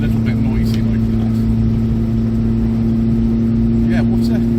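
A 1969 Triumph 1300 car engine drones steadily at cruising speed with a constant hum and road noise, loud and close, a voice speaking briefly over it.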